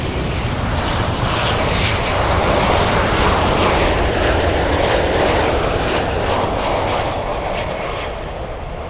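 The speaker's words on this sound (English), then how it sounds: "American 53 flying in from Rome, landing 10 minutes early" An American Airlines flight arriving from Rome lands at Miami International Airport, its jet engines roaring loud and broad, swelling to a peak mid-pass and easing off toward the end, with no voices.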